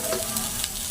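Boiled shredded chicken is stirred into a vegetable kabab mixture, making a brief, close, steady wet scraping and squishing sound.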